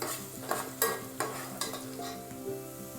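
Finely chopped onion frying until red in a pan for mutton sukka makes a soft continuous sizzle, broken by several spatula stirs and scrapes against the pan, close and moderately quiet.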